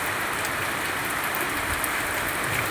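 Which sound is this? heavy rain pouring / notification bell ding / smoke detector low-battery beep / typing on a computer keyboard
heavy rain pouring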